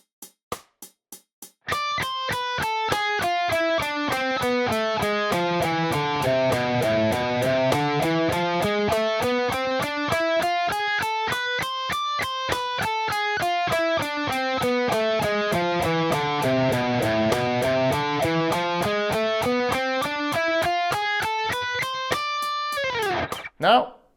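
A distorted electric guitar picks fast, evenly spaced 16th notes starting from the highest note, cascading down and back up in repeating waves, loud and close, with a few brief sounds before and after the run.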